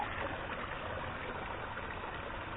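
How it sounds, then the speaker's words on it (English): Water runs steadily through a Gold Cube gold concentrator during a cleanup on the North Saskatchewan River, a continuous rushing trickle like a small stream with no talk over it. "We have got water flow."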